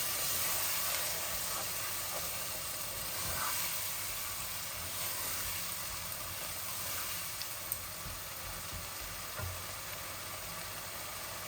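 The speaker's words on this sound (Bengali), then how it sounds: "মরিচ মশলা আমি অল্প একটু জল দিব, যাতে আমার মরিচ মশলাগুলা" Steady broadband sizzle of a little water added to chili spice paste in a hot pan while cooking a trotter curry, a constant close hiss with occasional faint clinks and no voices.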